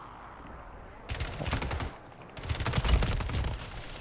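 Rapid bursts of gunfire crackle in the Call of Duty video game, two loud volleys separated by a short pause, with no one speaking.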